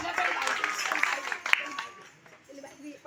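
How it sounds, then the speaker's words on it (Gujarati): A religious gathering's audience claps briefly to welcome a musician. The scattered, moderately loud clapping fades out after about two seconds, with a voice speaking over it. "અમારા અમરતભાઈ પાલનપુરથી એમને પણ તાળીઓથી વધાવી લઈએ"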